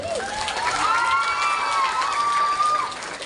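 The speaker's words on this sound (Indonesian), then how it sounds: "Tepuk tangan dulu." Applause and cheering from an audience at a school event honouring the school as an Adiwiyata green school with a healthy-school award; a steady, fairly loud crowd roar with shouting voices runs throughout.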